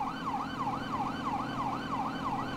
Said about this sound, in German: Können wir die Sirenen ausstellen?